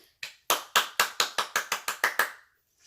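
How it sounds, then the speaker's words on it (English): About eleven sharp hand claps ring out in a quick, fairly even rhythm, each one crisp and close with a short decay, followed by a brief silence. "Yeah, you heard that clap."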